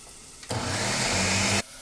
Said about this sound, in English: So I put my squash in the blender,